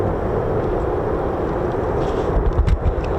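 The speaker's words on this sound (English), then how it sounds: "It is an F-15" An F-15 fighter jet passes overhead at RAF Lakenheath, a loud, steady broadband roar that fills the whole clip and swells slightly toward the end, with no one talking.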